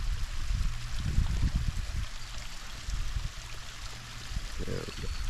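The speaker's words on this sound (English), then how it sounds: "Get the drippage there." Water dripping and trickling at a Yellowstone hot spring, a steady wet flow with small splashes running throughout, fairly close and continuous with no talk.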